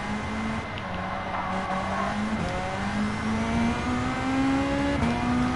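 A race car engine in Gran Turismo 7 at Bathurst, a steady loud drone climbing slowly in pitch under acceleration, with brief shifts and faint tire noise, no talk over it.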